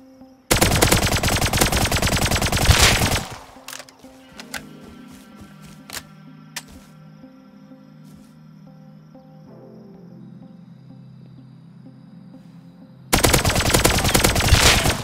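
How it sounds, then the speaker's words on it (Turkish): Suppressed gunfire in Rust comes as a few sharp, scattered muffled shots in a quieter middle stretch, framed by long dense bursts of loud broadband noise at the start and end. "Susturucu sıkıyor biri."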